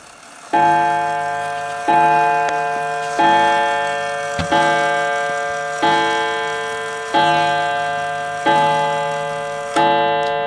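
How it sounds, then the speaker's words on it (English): An antique 1920s Napoleon hat mantle clock with an eight-day movement strikes eight o'clock, eight resonant gong-like chimes at a slow, even pace, each ringing out and decaying before the next, close and clear with no talking. "Now that is 8 o'clock on the dot"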